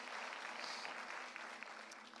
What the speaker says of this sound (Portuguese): Será que a gente pode dar uma salva de palmas para esse pessoal que liderou a gente em oração?